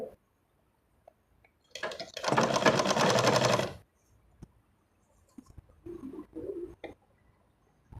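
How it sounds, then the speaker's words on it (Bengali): A small sewing machine runs one quick burst of close, rattling stitching on salwar fabric, lasting about two seconds amid quiet room sounds, followed later by softer handling clicks and brief motor movements. "আমি এটা মজবুত হওয়ার জন্যে একটা চাপ সেলাই দিয়ে দিচ্ছি"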